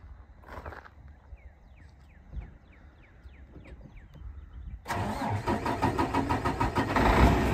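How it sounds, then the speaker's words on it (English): A 2007 Freightliner M2 truck with a Mercedes-Benz 12.8 liter, 410 horsepower diesel engine turns over and starts at about five seconds, then settles into a loud, steady, rough idle. Faint quiet knocks and ambient noise come before the start. "The engine starts right up. It sounds great."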